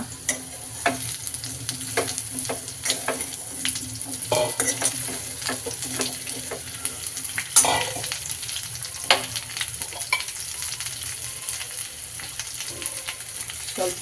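Sweet potato fries in a pan with curry leaves, a soft steady sizzle under repeated scraping and clacking from a spoon stirring. It stays close and moderately loud throughout, with no talk.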